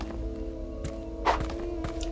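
A special attack with a spiked weapon in the video game Mask of Eternity: a few dull, heavy thunks, one louder impact standing out over a steady background hum.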